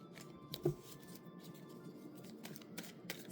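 Tarot cards are shuffled in quick, soft riffles and taps, with a sharper slap early on, quiet and close with no talking.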